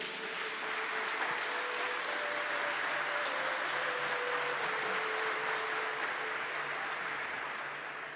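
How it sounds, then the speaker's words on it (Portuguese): A church congregation applauds with a sustained, even wash of clapping that fades slightly at the end, with a faint tonal hum running underneath. "Pode aplaudir, irmã, você?"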